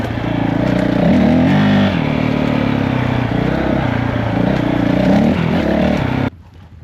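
A 2019 Honda CRF450L motorcycle engine runs loud and steady at close range, its tone rising and falling slightly with the throttle, before cutting off abruptly near the end.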